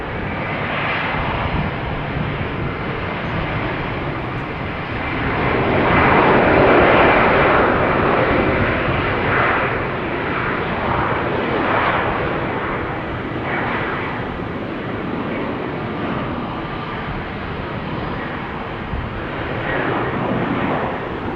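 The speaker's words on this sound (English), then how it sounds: "KLM flight 1451 to Toulouse in the SkyTeam livery, Embraer 190" A KLM Embraer 190 jet airliner in SkyTeam livery at Amsterdam Schiphol gives a steady, loud broadband engine roar that swells around the middle and holds, with no talk over it.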